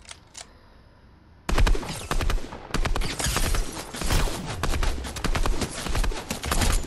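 Video game gunfire from an SMG, pump shotgun and sniper erupts after a quiet opening, rapid loud bursts of shots and impacts rattling on in close succession.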